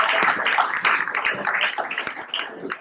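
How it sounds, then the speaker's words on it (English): Audience applause at a benefit gala for a justice organization, a dense wash of clapping hands that holds steady for a few seconds with scattered sharper claps poking through. "Give me a round of applause."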